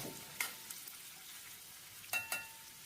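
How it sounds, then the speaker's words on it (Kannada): Sliced onion and curry leaves fry gently in a little oil for a vegetable saagu. The hiss is soft and steady, broken by a few brief stirring clicks. "ಈರುಳ್ಳಿ ಸ್ವಲ್ಪ ಎಣ್ಣೆಯಲ್ಲಿ ಫ್ರೈ ಆಗಬೇಕು ಒಂದು ಅರ್ಧದಿಂದ ಒಂದು ನಿಮಿಷ ಚೆನ್ನಾಗಿ ಫ್ರೈ ಮಾಡ್ಕೋಣ"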